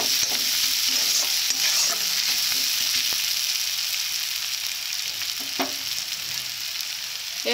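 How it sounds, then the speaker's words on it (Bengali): Spiced curry with turmeric, chili and salt being sautéed in a hot pan, a loud steady sizzle with close stirring scrapes throughout and no talking. "এইভাবে ভালো করে কষে নেব।"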